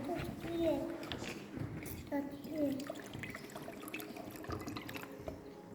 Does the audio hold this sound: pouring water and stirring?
yes